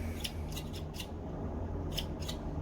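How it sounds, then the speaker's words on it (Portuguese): Scissors cut thread at a Janome 2008s sewing machine, giving a few quiet, crisp snips in two small clusters against a faint steady hum; no speech. "aqui eu vou cortar a linha."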